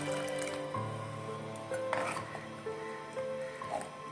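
Water poured into a drumstick leaf and lentil dal curry, with soft trickling and liquid splashes alongside faint kitchen clinks and tones, fairly quiet.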